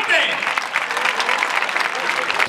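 A crowd applauds at a bull-dodging recortes contest in Aldeadávila, brisk outdoor clapping mixed with loud shouting voices.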